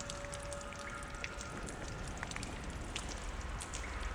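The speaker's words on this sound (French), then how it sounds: "on entend très très bien là dans le casque la pluie qui tombe, qui vient du haut" Steady rain patters down in the video game Lies of P, a dense continuous hiss of drops with scattered louder splashes, spread evenly and moderately loud with no voices.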